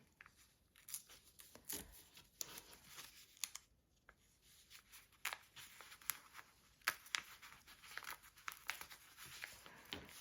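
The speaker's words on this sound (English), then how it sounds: "I will take the paper out." Paper being peeled and pulled away from strips of fabric scrap, giving close, intermittent crinkling and tearing rustles in irregular bursts with short pauses between.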